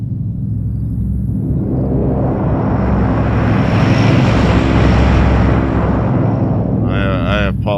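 A loud, steady roar of a plane flying in DayZ, constant and close throughout, with a faint squeal near the end.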